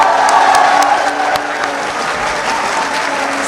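Sustained audience applause at a mushaira poetry gathering of a university literary society, a loud, dense wash of many hands clapping that holds steady from start to finish.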